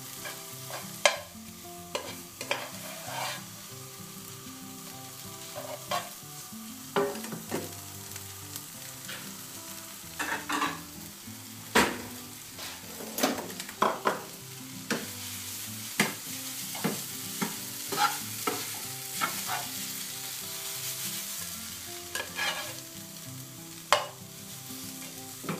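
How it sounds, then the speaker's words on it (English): Noodles stirred in a frying pan, steady sizzling under repeated scraping and clattering of a utensil against the pan, close and continuous with no talk. "just chuck your noodles in, give it a stir around"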